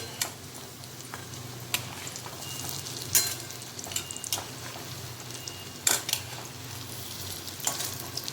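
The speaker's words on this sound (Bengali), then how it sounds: "এইভাবে আমি আঁচ কমিয়ে কমিয়ে বড়াটার নিচের দিকটা খুব ভালো মতন ভেজে নেব।" Egg and potato fritters fry in a pan over lowered heat, giving a continuous soft sizzle broken by a few sharp spatula scrapes and taps, close and without speech.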